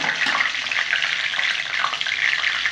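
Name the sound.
frying whole spice tempering in oil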